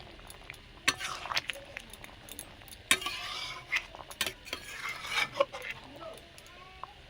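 Mankochu and potato curry with ground spice paste stirred in a pan, scraping and clinking in irregular bursts over a faint sizzle, close by with no talk.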